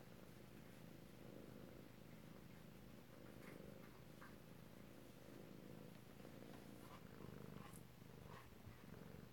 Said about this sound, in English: Miss Zelda says it's her turn to purr